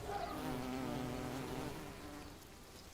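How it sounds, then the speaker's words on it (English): A wool carder bee near an old wooden fence gives a steady, close buzz that holds for a few seconds and then eases slightly, with no other sound over it. "A wool carder bee has moved in."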